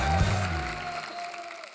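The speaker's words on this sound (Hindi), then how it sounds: "परी के लिए जोरदार तालियां" Studio audience applause on a TV talk show set, a dense wash of clapping that swells at the start and then gradually thins and fades out.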